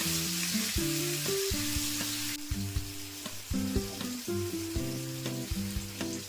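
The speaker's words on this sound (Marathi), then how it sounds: "सर्व मच्छी पलटून घेतल्या तर अजून दुसऱ्या साईडने सुद्धा चार ते पाच मिनटं भाजून द्यायची" Surmai and pomfret pieces fry in a pan, a steady close sizzle running throughout, with scattered clinks and scrapes as the fish is turned over.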